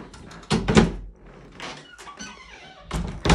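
A large double wardrobe in a holiday cottage bedroom is handled, with wooden door thunks and knocks at the start and end and faint creaks and rattling between.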